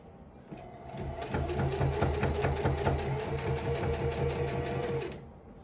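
A sewing machine stitches through many layers of fabric for a ribbon skirt, its rapid, even clunking running for about four seconds, close and clear, then stopping.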